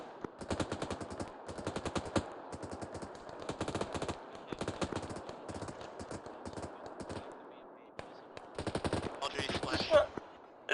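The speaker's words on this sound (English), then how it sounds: "It's got a lot of rifle fire for one guy walking up." Sustained rifle fire in the ArmA 3 military shooter, with repeated bursts of rapid shots in clusters and brief pauses between them, steady and fairly loud through most of the stretch, with faint voices in the background.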